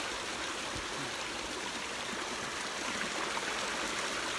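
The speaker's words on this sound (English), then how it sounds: "the deluge of water which is running down here and obviously heading towards the reservoir" Floodwater from a deluge rushes down a footpath turned into a river toward a reservoir in Silton Forest, a steady loud broadband roar of running water, close and continuous without pause.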